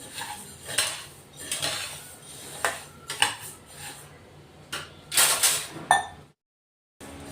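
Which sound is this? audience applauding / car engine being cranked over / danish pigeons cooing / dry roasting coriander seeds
dry roasting coriander seeds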